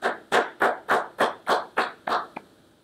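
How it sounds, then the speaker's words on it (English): About eight slow, evenly spaced hand claps ring out close and fairly loud for students of the week at a high school news broadcast, ending with one softer, weaker clap. "Let's give these students a round of applause."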